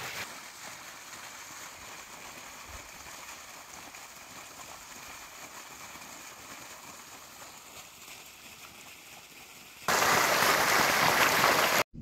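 River water gushing through an overflowing chamber, a steady close rush and churn of water that holds throughout, ending in a sudden louder hissing surge.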